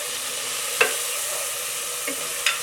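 Ground spices, including coriander and garam masala, fry in a pot with beef biryani masala, making a continuous hissing sizzle. Three brief scrapes or clinks of a stirring spoon cut through it, with no talk.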